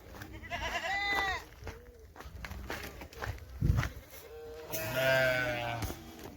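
Goats bleat nearby, one burst of calls early and another toward the end, with shuffling hooves and rustling in between.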